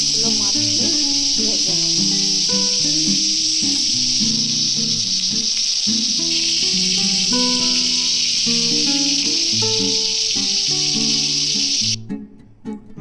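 Steady loud sizzling of stingray fish frying in hot oil, with music playing alongside, until the hiss cuts off near the end.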